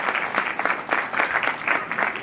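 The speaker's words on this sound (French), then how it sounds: "Est-ce qu'on peut applaudir très très fort pour Maravilla" Wedding guests clapping together at a reception, a brisk, moderately loud burst of applause with the individual claps heard clearly and no voices over it.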